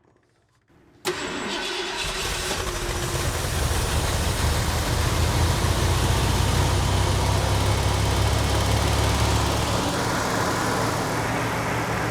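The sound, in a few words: engine of an abandoned 4x4 Ford farm truck running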